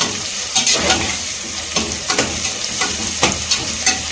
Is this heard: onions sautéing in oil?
yes